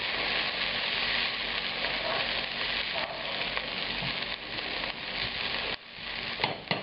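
Diced fresh red chili and onion frying in a hot pan, a dense continuous sizzle close up with a few soft knocks near the end, no talking.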